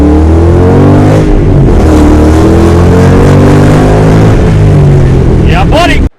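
A 2005-2009 Ford Mustang engine revs hard and loud up close as the throttle is pressed, a deep rising roar that holds strong before cutting off abruptly at the end.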